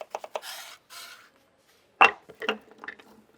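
A knife cutting through strawberries on a board, with a few light scrapes and taps, then a sharp chop and several short slicing sounds, close and quiet.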